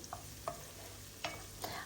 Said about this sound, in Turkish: Ve kıyma ile birlikte kavuruyorum.